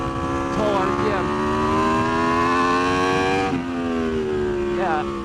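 Aprilia RSV4 RF superbike engine running close, its harmonic drone steady while off throttle with a couple of brief pitch shifts, a rise and dip near the middle, continuous and fairly loud without talk.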